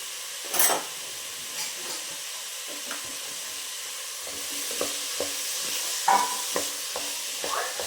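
Avarekalu usli frying in oil in a pan: a steady close sizzle and hiss with scattered scraping stir strokes and light clinks throughout.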